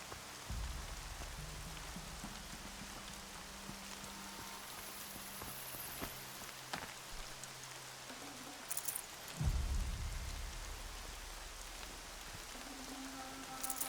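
Steady rain hisses throughout a scene in the Horizon Zero Dawn video game, with occasional soft thuds and clip-clop-like knocks under the constant downpour.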